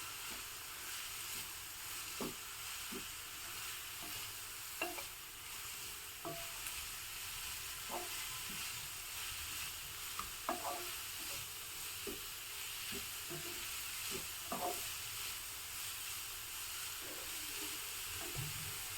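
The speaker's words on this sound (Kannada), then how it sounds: "ಈಗ ಇದನ್ನು ಚೆನ್ನಾಗಿ ಹುರ್ಕೋಬೇಕಾಗುತ್ತೆ. ಅಂದರೆ ಫುಲ್ಲು ಕ್ರಿಸ್ಪಿ ಆಗಬೇಕು, ಅಲ್ಲಿವರೆಗೆ ಹುರಿಬೇಕು." Food fries in a pan until crispy, a steady close sizzle with soft scraping stirs every second or two, no talking over it.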